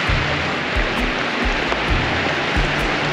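A tiny mountain river on the trail to Manang rushes by up close, a loud and constant roar of flowing water, with low thumps beneath it that may be footsteps and no talking.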